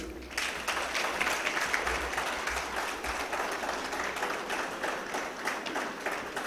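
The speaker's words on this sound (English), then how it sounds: "You always get the warmest applause, huh?" Audience applause at a business summit in Islamabad: sustained clapping from a large crowd in a hall, steady and moderately loud for the whole stretch, with no one speaking over it.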